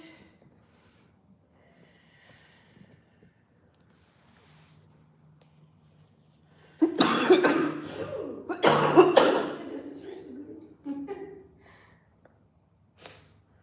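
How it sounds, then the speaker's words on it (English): A burst of harsh coughing after a long quiet stretch, two rough clusters close together, then a faint throat sound near the end. "Those coughs hang on forever."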